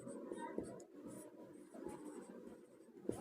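Someone quietly writes out a math answer by hand, with soft, continuous pen scratching on paper and a few faint taps close by.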